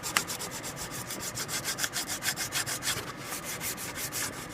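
Sandpaper rubs back and forth along a wooden axe handle in even, rhythmic strokes, about a dozen close scratchy passes with no talking.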